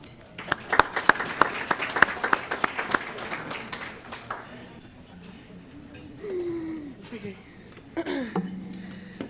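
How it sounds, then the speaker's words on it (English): Audience applause for a Māori cultural performance at a Ramadan dinner, with clear sharp claps early that thin out and fade, followed by speech. "Please join me in giving them a warm round of applause."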